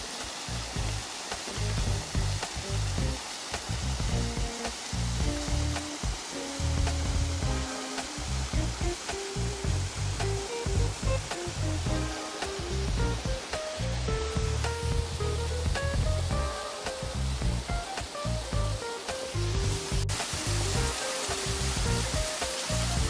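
Waterfall in Lakrush canyon near Novosvobodnaya, a constant broadband rush of falling water heard alone and fairly steady throughout, with no voices.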